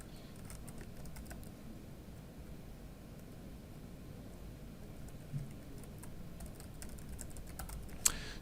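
Typing on a computer keyboard while entering a global admin login: soft, fairly quiet key clicks over a steady background hiss, with one sharper click near the end.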